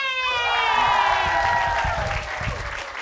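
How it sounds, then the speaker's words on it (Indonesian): Studio audience applauding and cheering to welcome a guest on a comedy show, a steady wash of clapping with some high shouts and whistles over it. "Apaan sih tepuk tangan? Kita sambut ibunya Neng!"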